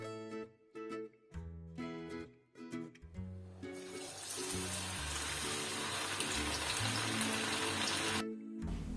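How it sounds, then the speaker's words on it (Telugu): Chicken pakoda pieces coated in masala sizzle in hot oil on a medium flame, a dense, steady frying hiss that starts after a few seconds of tonal music and cuts off near the end. "ఈ చికెన్ని మొత్తం 3 to 4 minutes వరకు మీడియం ఫ్లేమ్లో ఫ్రై చేసుకోవాలి"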